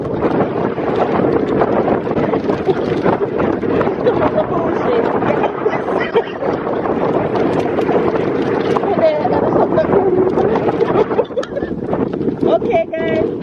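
Strong wind buffets the microphone aboard a boat at sea near the Blue Lagoon in Jamaica, a continuous loud roar with gusty rumble throughout.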